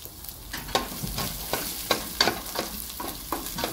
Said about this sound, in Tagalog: Mainit na po ang ating pan. Ilalagay na po natin ang bawang.